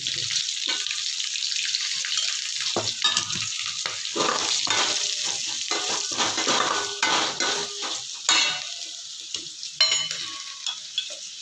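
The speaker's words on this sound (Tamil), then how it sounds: "வெண்டிக்காய் போட்டு ரொம்ப வதங்க வேணாம்" Native okra sautéing in a pan for sambar, a loud close sizzle under repeated scraping and clinking of a metal spoon stirring, with brief pauses between strokes and no voices.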